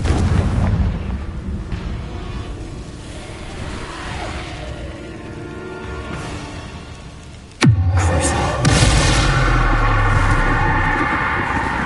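A Confringo blasting curse from a Harry Potter wizarding game goes off as a sudden loud explosive boom with a sharp crack, then a sustained rumbling roar, following a stretch of low rumbling ambience.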